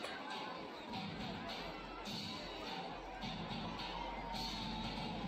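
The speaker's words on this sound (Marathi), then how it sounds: "खूप गर्दी आहे. आज रविवार असल्यामुळं खूप लोक आलेले आहेत." Busy Sunday crowd at a water park near Pune, a steady wash of distant chatter, shouts and cheering with music-like swells, fairly faint and continuous.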